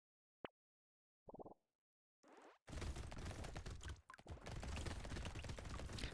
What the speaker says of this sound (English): Single ghost SMG.